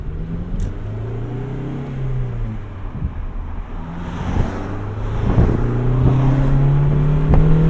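A 1991 Honda Civic Si EF hatchback without VTEC revs hard, its engine note climbing in pitch over a steady drone and growing louder and closer toward the end, with no one talking.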